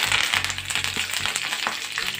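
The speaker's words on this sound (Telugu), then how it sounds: "ఉల్లిపాయ అలా వేగితే సరిపోతుంది." Sliced onions, curry leaves and dried red chilli pieces sizzle steadily in hot mustard oil in a pan, a close, even crackle with light stirring clicks.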